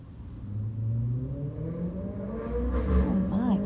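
Traffic from cars passing outside an apartment, a muffled, distant engine rumble and whir that swells and fades, with a brief voice near the end.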